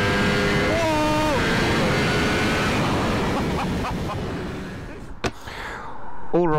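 A Ducati V4S motorcycle rides on a public road, giving a loud, steady engine drone with wind rush that shifts pitch as gears change, then fades near the end with a sharp knock and brief noises.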